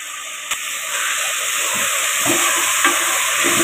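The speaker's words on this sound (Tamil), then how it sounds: "2 நிமிஷம் வதக்கட்டும்." Spices sizzle steadily in a hot pan as turmeric, chili and coriander powder are sautéed for a Tamil greens kootu, a continuous bright frying hiss with soft stirring scrapes and small crackles.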